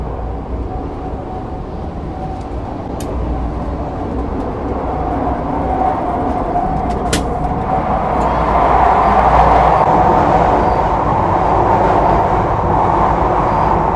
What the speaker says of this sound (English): Business class train service from Kuala Lumpur Central Station up to Butterworth.